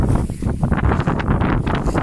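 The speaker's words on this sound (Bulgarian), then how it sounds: "Днеска са големи ветровете на село." Strong wind roars and buffets the microphone continuously in a Bulgarian village countryside, a loud rumbling gust with rustling throughout and no voices.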